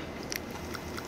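Dumplings being bitten and chewed up close, soft moist crunching and mouth sounds over a steady background of restaurant noise.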